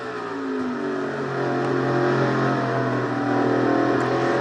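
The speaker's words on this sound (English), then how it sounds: "These engines indeed get a workout here in Martinsville for sure." Stock car engines rev hard at Martinsville in a racing video game, a loud, sustained multi-engine roar with shifting pitch; no one speaks.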